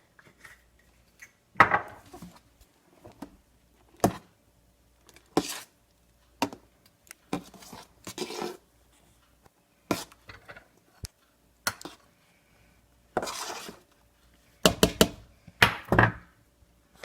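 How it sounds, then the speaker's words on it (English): Homemade garden salsa with added cayenne being stirred, heard as a series of sharp knocks and thunks from a utensil against a container, irregular and close, with quiet gaps between bursts. "And then we're going to stir it up again"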